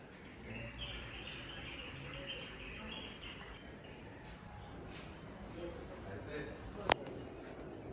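Birds chirp outdoors on a coastal plateau near Ganpatipule, faint and distant calls under a steady wind-like background, with one brief sharp sound near the end.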